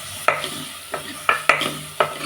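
Turmeric powder stirred into a sizzling pan of frying food, a spoon scraping in five or six distinct strokes over a steady low sizzle, close and moderately loud.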